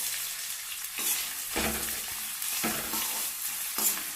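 Onions frying in a little oil with bay leaf and cinnamon stick for a spicy Saoji-style egg green gravy: a bright continuous sizzle with several spatula stirs scraping the pan, close and without speech.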